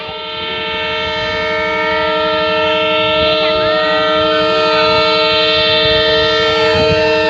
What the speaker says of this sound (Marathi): रेल्वे रायमोच्या रेल्वे स्टँडवर आलेले आहे